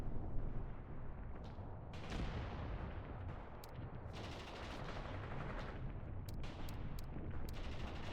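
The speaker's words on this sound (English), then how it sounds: "now this mortar is firing" A mortar fires repeatedly in the wartime strategy game Mius Front, heavy booming blasts and crackling gunfire overlapping in a dense, continuous battle din with no voices.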